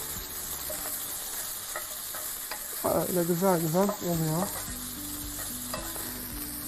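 Steady sizzling of chicken and onions frying in a pan, with a voice speaking briefly in Turkish over the cooking noise.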